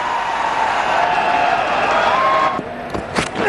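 A cricket crowd at a 2009 India versus Australia one-day international cheers and applauds a boundary four. The roar is steady and broad, then thins out near the end, leaving a few scattered claps and shouts.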